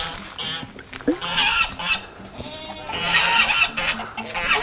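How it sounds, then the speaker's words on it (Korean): Geese honk repeatedly in a fenced yard beside a persimmon orchard path at a rural Korean home, with chickens mixed in; the ganders are on guard. Loud, overlapping calls come in irregular bursts, close by. "여기 울타리는 거위하고 닭하고 지금 놀고 있습니다"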